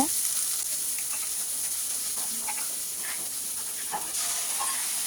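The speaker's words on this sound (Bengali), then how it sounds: "তেল দিয়ে দিলাম দুই টেবিল চামচ পরিমাণ তাতে পেঁয়াজগুলো একটু ফ্রাই করে নিচ্ছি" Onions fry in about two tablespoons of oil in a pan, giving a steady, soft hiss with faint stirring clicks and no talking.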